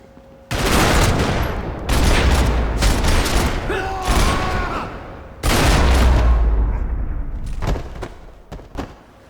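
Loud, close gunfire in Max Payne 3 erupts in two sustained bursts of rapid shots separated by brief gaps, with a shouted voice and ringing metallic tones in the middle.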